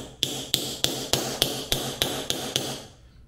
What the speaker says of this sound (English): You just give a little tap with a hammer